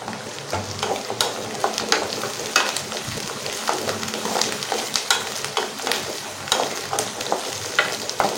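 Garlic and small shallots frying in a pan for garlic kuzhambu, a constant close sizzle with regular rhythmic stirring scrapes throughout, no speech.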